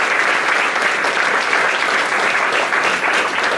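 A church congregation claps for the Lord during an evangelical service, a dense, steady wash of many hands that stays loud and even throughout with no voices over it.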